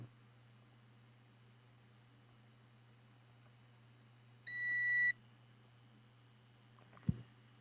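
A continuity tester gives one clear, high electronic beep lasting about half a second when touched to a sanded tuner coil wire on an Echophone EC 600 AM radio, over quiet background hum, followed by a brief handling knock.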